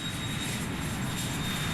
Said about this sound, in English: My plane is leaving the gate and we are on the runway.